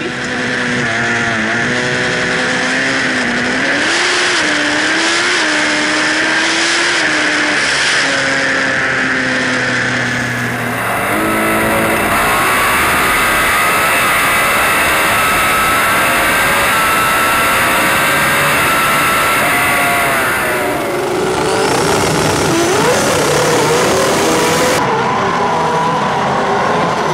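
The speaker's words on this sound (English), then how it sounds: "It's the Mazda 6 in the Rocket Industries lane 20B taking on 2J." A Mazda 6 drag car with a 20B rotary engine racing at a winter drag event, its loud high-revving engine note climbing through several gear changes, with another engine screaming nearby, sustained and close for the whole run.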